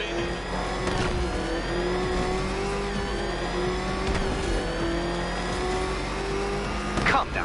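Car engine revving in a Batman video game, a steady loud mid-pitched motor drone rising and falling in pitch over several seconds, with a sharper rev burst near the end.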